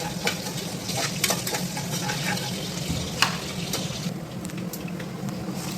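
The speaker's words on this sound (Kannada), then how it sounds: "ನಂತರ ಕುಕ್ಕರಲ್ಲಿ ಸ್ವಲ್ಪ ಎಣ್ಣೆ, ಸ್ವಲ್ಪ ಸಾಸಿವೆ ಹಾಗೂ ಕಟ್ ಮಾಡಿ ಇಟ್ಕೊಂಡಿರೋ ಈರುಳ್ಳಿನ ಹಾಕಿ ಫ್ರೈ ಮಾಡೋಣ." Onions and mustard seeds frying in oil inside a pressure cooker, a steady dense sizzle with scattered crackles and pops running throughout, close and fairly loud, no talking.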